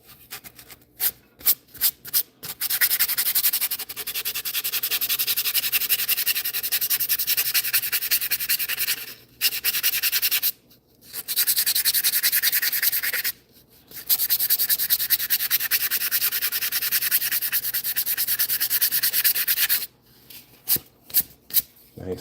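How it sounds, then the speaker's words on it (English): Sandpaper pressed against a wooden walking stick spinning on a lathe, a bright, raspy hiss that holds steady for long stretches, broken by short pauses and quick on-off touches at the start and end. "so I can do a little bit of sanding."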